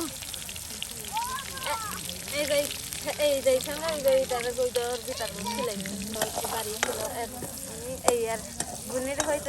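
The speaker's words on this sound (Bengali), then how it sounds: "পেঁয়াজগুলো বাগার দিয়ে দেওয়া হবে, সুন্দর করে মশলা কষিয়ে নেওয়া হবে" Onions and spices sizzle steadily in a pan for a village-style chicken dish, with intermittent stirring scrapes throughout while people talk over the cooking.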